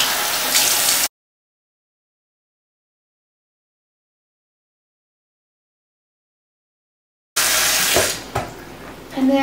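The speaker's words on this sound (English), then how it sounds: "when I feel like I got a good clean, I rinse it off." A bathroom tap runs as water rinses a face, in two short bursts of steady splashing with a long gap of silence between them.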